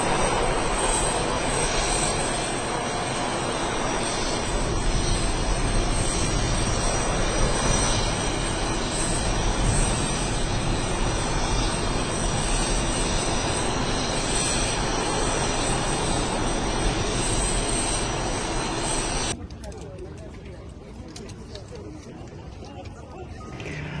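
A continuous aircraft engine roar at Ulaanbaatar airport holds steady and fairly loud for about twenty seconds, then drops abruptly to a quieter hum.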